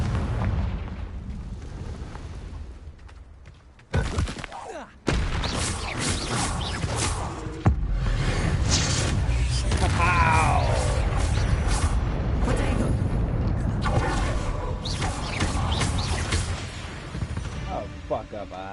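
Fiery Confringo spell blasts from the Hogwarts Legacy video game erupt as loud, dense booms and crackling bursts, continuous and roaring across the stretch with brief breaks, game audio filling the whole span.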